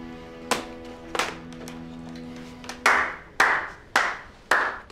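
A lone person claps slowly with a handful of spaced claps; the first few are lighter and ringing, the last four sharper and louder, close by, with no talk.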